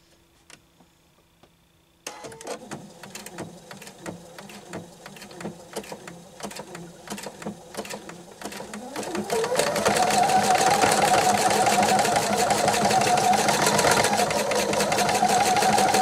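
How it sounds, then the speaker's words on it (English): A strong sewing machine zigzag stitches knit fabric cut from an old shirt. It starts with slow, spaced needle clicks, then speeds up into a loud, continuous whirring run close by. "even a strong machine like this one can have a hard time. So I'm going to go back over it with a zigzag stitch"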